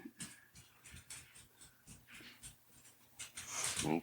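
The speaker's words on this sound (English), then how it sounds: "Silly dog." Dog whimpering and breathing with snorts and wheezy pants, close and fairly quiet, the sounds coming in short bursts and swelling louder toward the end.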